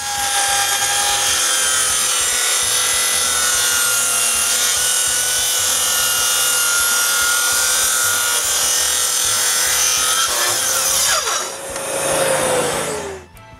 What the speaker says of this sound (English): with my new jig, I cut the shoulder of the open mortise on top